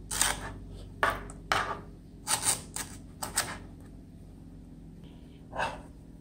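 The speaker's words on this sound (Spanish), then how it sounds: "la cortamos en trocitos." Knife chopping a sansevieria (snake plant) leaf into small pieces, a series of sharp, close cuts in uneven bursts with short pauses between.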